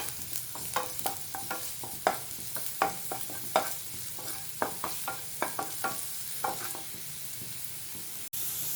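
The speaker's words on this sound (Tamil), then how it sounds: "நல்லா கோல்டன் ப்ரௌன் வர வரையும் இஞ்சியை நல்லா வறுத்து வச்சுக்கலாம்" Ginger pieces fry in hot oil until golden brown, a steady close sizzle punctuated by regular clinks and scrapes of a spoon stirring in the pan, with no talking.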